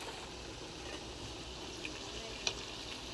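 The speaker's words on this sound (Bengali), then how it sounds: "এগুলো ভেজে নেব" Prawn chops frying in hot oil give a steady, quiet, even hiss with no talk, broken by one soft click near the end.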